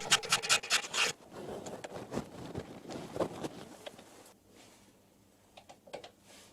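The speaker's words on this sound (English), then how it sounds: "Cleaning up the slot with a file." A hand file working a slot in a wood lathe toolrest gives rough rasping strokes, dense and rhythmic at first, then slower scattered scrapes and taps that fade toward quiet near the end.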